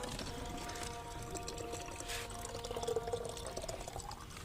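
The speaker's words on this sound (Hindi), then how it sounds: "पानी को हम भर लेते हैं" Water poured to fill a container at a village-style house along a wilderness trek, a steady watery trickle running throughout over low outdoor background noise.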